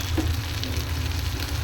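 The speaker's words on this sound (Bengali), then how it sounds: "এমন করে তেলে ভেজেছি" Boiled potatoes frying in hot oil in a pan, a loud continuous sizzle with crackle, close up and without talk.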